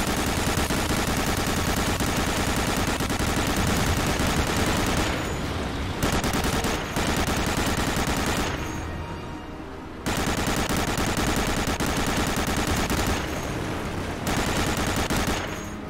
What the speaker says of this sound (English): Coming down for a strafing run.